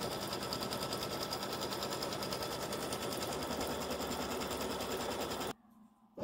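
An embroidery machine running a placement stitch for a door hanging, a loud steady rapid needle chatter that continues evenly for several seconds and then stops abruptly.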